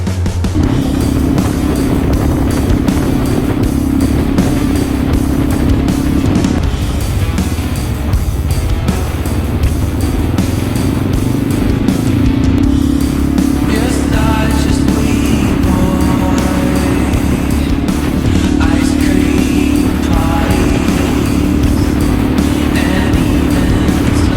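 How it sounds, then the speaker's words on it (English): A motorcycle ride with the engine droning steadily and close, pitch rising and falling as it accelerates and shifts, wind rushing over it the whole time. "You never ever come back from a motorcycle ride without a grin on your face."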